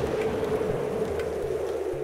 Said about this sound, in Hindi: बारिश का तूफान है ये